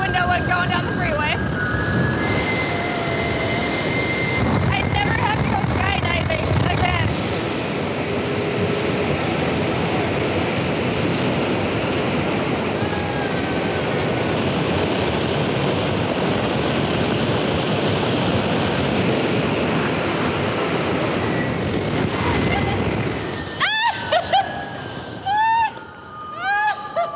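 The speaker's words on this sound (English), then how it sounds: "This is sitting in front of a fan." A giant fan blasting a strong wind, a loud, broadband rushing roar that holds steady for about twenty seconds, then cuts out and leaves people talking excitedly.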